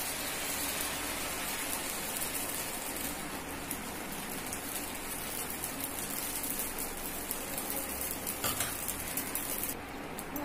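Dosa batter fries on an oiled griddle, a continuous close, even hiss like steady rain that holds at the same level throughout with a few faint clinks and no voices.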